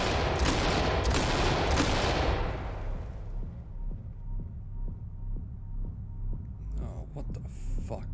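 Rapid bursts of gunfire from the tactical shooter game Ready or Not crackle loudly at first, then give way to a quieter run of scattered single shots over a low hum.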